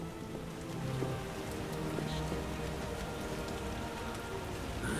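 Steady rain in The Witcher game, a continuous dense patter of drops on surfaces at even loudness throughout, with no speech.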